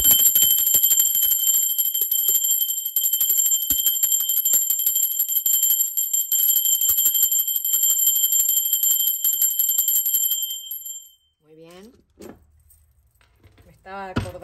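A bright, sustained bell rings steadily for about ten seconds, shimmering with fast repeated strikes, then cuts off and a voice speaks briefly.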